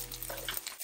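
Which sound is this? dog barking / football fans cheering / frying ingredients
frying ingredients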